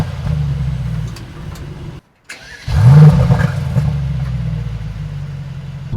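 A Mercedes-AMG E63 S V8 sedan idles low and rumbling, falls briefly silent, then cranks and fires with a loud rising bark before settling into a steady, deep idle, close up.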